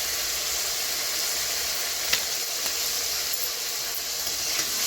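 Turmeric and cumin powder frying in a pan for a spicy fish curry, a steady close hissing sizzle with faint stirring clicks now and then, even in level, no voices.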